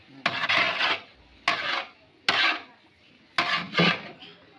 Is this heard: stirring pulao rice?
yes